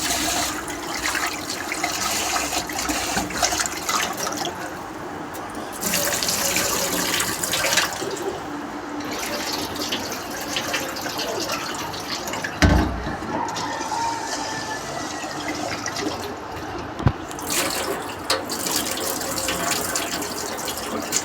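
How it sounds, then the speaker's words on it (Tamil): Water pouring over rice being washed after rubbing with lemon, a steady splashing, running stream close by that continues for about twenty seconds with brief pauses and small clunks. "இதையும் நம்ம வந்து தண்ணி ஊற்றி நல்லா வாஷ் பண்ணிக்கலாம்"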